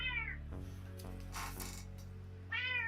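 A cat gives two clear meows, one at the start and one near the end, with quiet indoor background between them and no talking.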